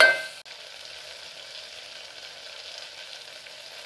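Ginger garlic paste and chilli hiss and sizzle in a hot pan as they are stirred, a quick clang at the start giving way to a steady, even frying hiss without any voices.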